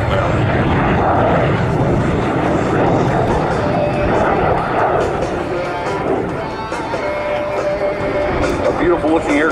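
A straight-winged T-33 jet flying at the Selfridge airshow gives a continuous loud roaring engine rush that fades slightly then swells, with an announcer talking over it.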